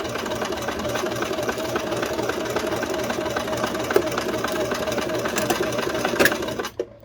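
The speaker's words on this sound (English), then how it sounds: "I'm going to go ahead and sew my 2 inches along my crotch curve." A sewing machine runs steadily, stitching two inches along a trouser crotch curve seam, its motor whirring at an even, continuous pace close by before stopping abruptly at the end.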